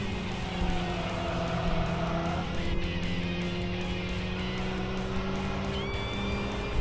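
A De Tomaso Pantera, an Italian car with an American engine, drives in the racing game Tokyo Xtreme Racer 3, its engine holding a steady droning note with slight pitch shifts and a brief tire squeal near the end, continuous and fairly loud.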